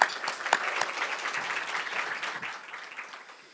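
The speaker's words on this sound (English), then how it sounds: "So let's give Stu a round of applause." Chamber of commerce luncheon crowd giving a round of applause for a commissioner, a few sharp claps at the start swelling into a brief, fairly close burst of clapping that fades out.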